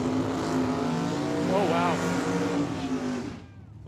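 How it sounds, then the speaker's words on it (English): Drag cars roar down the strip at a dragway during a racing event, a loud sustained engine blare with a brief rising whine partway through before it fades; an announcer talks over it. "That's a drag race."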